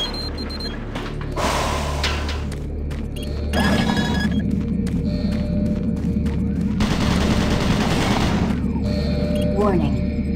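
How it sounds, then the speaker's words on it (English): Automated turret guns in Doom 3 firing in dense rapid bursts, loud and close, with sustained stretches of rattling gunfire separated by short gaps over a low industrial hum. "Automated turret guns online."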